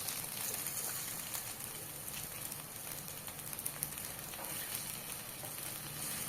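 Oil sizzling on a small griddle while edible flowers fry, a soft continuous crackling hiss, steady and fairly quiet with no voices.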